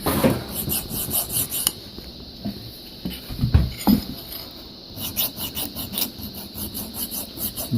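A hand file rasps across a steel axe head in repeated scraping strokes, gritty metallic rubbing with brief pauses and a couple of louder knocks in the middle, close and without talk.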